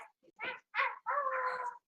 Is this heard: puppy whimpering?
yes